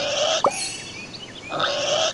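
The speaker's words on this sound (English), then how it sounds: "Oh no, some pigs have wandered off from the farm." Pigs oink in short squealing bursts near the start and end, set against bright, busy background music in the Thomas and Friends: Magical Tracks video game.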